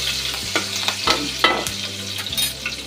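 Curry leaves frying in hot oil, a steady close crackling sizzle with a few stirring scrapes and spatters, no voices.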